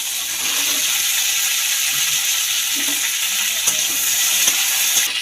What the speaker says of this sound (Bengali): আলু আর বিনস ভালো করে ভেজে নেব